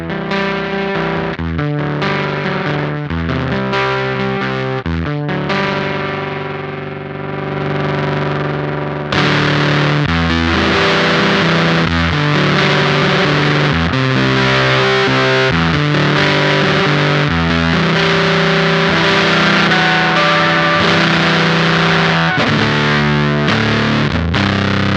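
Electric guitar played through a Beetronics Octahive V2 vintage-style fuzz pedal, its thick distorted chords and riffs ringing loud and sustained, alone, with the input boost pushed harder partway through for a denser, brighter fuzz.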